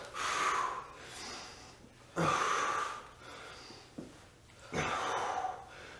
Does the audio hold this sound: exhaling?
yes